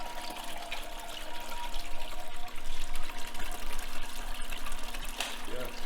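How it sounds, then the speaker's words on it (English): Water runs steadily through a Dream Mat Adventure Sluice outdoors, a continuous trickling, pouring flow at moderate level with a few brief clanks in the background. "Water flow is flowing decent."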